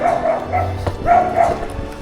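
A dog barks a few times at a distance, short yappy bursts spread across a couple of seconds over steady outdoor background noise.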